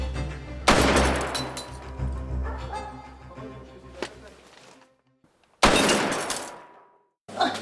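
Single gunshots ring out in a war drama: a few loud, sharp cracks spaced several seconds apart, each with a fading echo, over a low rumbling background.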